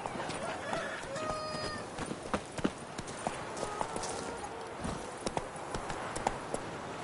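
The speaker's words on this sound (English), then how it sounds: "Run, Roach" A horse galloping in The Witcher 3 video game, rapid rhythmic clip-clop hoofbeats at close range over a soft ambient bed, with a brief faint voice partway through.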